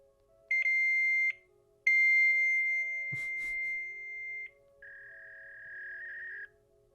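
Fax machine answer tones picked up after dialing a number shown on screen in a Backrooms series: steady electronic beeps in bursts, then a long held tone and a lower tone, loud and alone with no talking.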